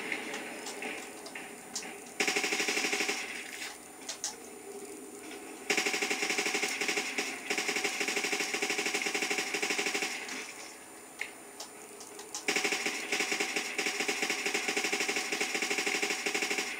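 Machine gun fire in a zombies video game, long sustained rapid bursts that start and stop several times, loud and close with no talk.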